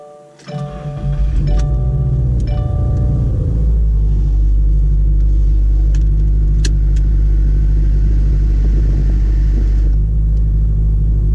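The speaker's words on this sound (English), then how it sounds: "So I wanted to give you guys a cold start here, show you what the boost looks like." A 2017 Subaru WRX with a Boomba blow-off valve cold starts: a quick cranking catch, then the engine settles into a loud, steady, rumbling high idle close by, with small clicks over it.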